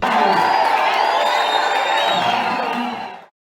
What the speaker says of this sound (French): le numéro 450 de la Tchangou a reçu des ovations de la foule